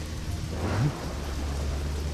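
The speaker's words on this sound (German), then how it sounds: "das Gewitter ist auch sehr atmosphärisch" Rain and a thunderstorm in the video game Deadly Premonition: steady rainfall with a brief low thunder rumble swelling in the middle, continuous and fairly close, with no voices.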